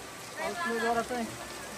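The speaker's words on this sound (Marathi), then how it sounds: "तुम्ही बघू शकता बाहेर एवढा पाऊस चालू आहे" A steady hiss of heavy rain falling outside fills the background, while a voice speaks briefly over it.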